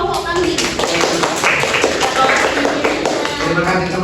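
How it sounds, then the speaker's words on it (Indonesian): Classroom group receiving applause from classmates, steady clapping from many hands filling the room, with voices murmuring underneath. "Kita kasih tepuk tangan untuk kelompok kami."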